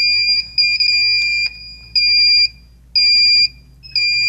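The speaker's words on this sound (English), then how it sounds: "Three beeps" Electronic alignment beeps from the receiver of a Solaris infrared barrier on cell three: a steady series of loud, clear high-pitched tones, several in a row with short gaps, over a faint background hum.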